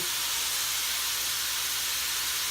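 Beef for beef and broccoli dropped into a hot pot to brown, giving a steady, loud hiss of sizzling steam throughout, with no talking.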